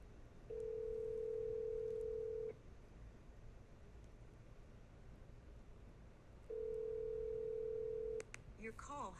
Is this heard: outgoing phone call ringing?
yes